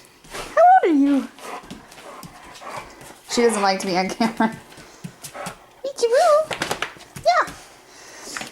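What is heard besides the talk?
old dog whimpering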